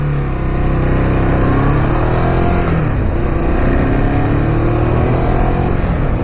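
Ducati Monster 821 motorcycle engine on a test ride: a loud, continuous close engine drone whose pitch climbs and dips as the throttle changes, wrapped in constant wind rush.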